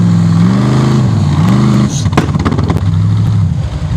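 An off-road 4WD vehicle's engine revs hard on a steep hill climb, loud and close, its pitch rising and falling in strained surges with clattering bursts midway.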